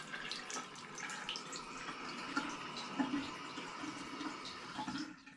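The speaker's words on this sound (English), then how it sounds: "when you turn this on, the water comes out." Water runs steadily from a bathroom faucet, splashing into the basin with a continuous hiss and small spattering bursts, moderately loud and unaccompanied by speech.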